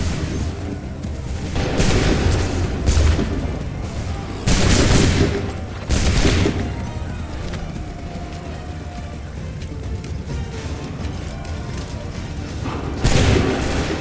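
Rolling volleys of musket fire crack and boom in bursts across an Assassin's Creed III battlefield, several loud clustered salvos separated by short pauses, with shouted commands in between.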